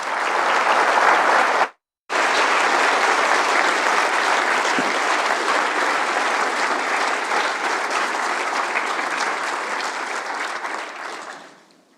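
An audience applauds steadily to welcome university President Hugh Brady for his inaugural address, a dense, even clapping that stops briefly, resumes and then fades out at the end.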